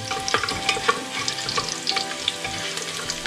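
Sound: spices frying in ghee

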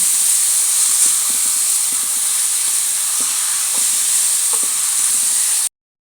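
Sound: pumpkin being roasted in a pan for halwa

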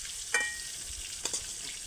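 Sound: pointed gourd (potol) frying in oil

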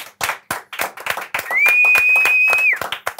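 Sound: audience clapping

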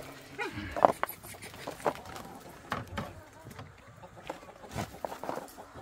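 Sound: chickens clucking

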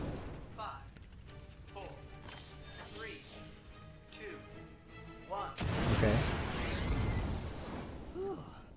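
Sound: explosions in video game Ratchet & Clank

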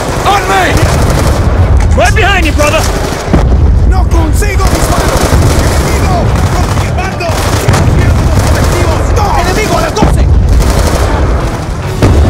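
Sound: gunfire in video game Call of Duty Black Ops II

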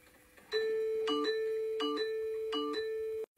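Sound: doorbell ringing

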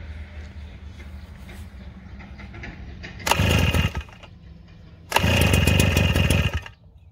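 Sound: small engine trying to start

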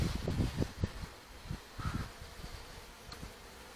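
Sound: honey bees buzzing at apiary hive

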